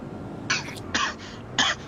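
A person coughs three short times, each brief harsh burst spaced about half a second apart, close to the microphone with no talking.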